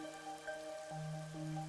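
Steady rain falls in the Master Detective Archives: RAIN CODE Plus video game, a soft continuous patter beneath sustained musical drone tones, with no voices.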